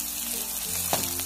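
Green chili goes into light-brown onions frying in a pan, a soft continuous sizzle that swells into a brief bright hiss near the end.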